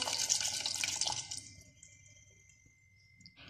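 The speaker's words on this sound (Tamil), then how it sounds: "இப்போ இதில் கொஞ்சமாக தண்ணி ஊற்றிக்கோங்க." Water poured into a pan of sautéed Chettinad mutton with chilli powder, heard as a close splashing and trickling pour that fades and tapers off into quiet dripping.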